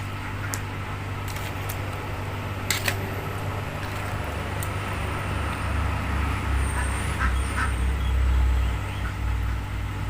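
Ducks quacking in a duck pen set among rural rice fields, scattered calls mixed into a steady low outdoor rumble with passing traffic-like noise throughout.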